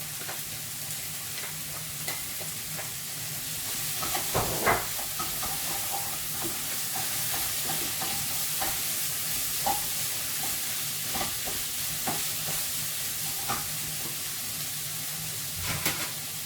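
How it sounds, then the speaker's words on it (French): Onions and bell peppers fry in a pan with a steady, close sizzle and hiss, broken by occasional stirring scrapes and clicks, with no voices. "Après que vos oignons ont fondu et qu'ils commencent à colorer, vous rajoutez vos poivrons."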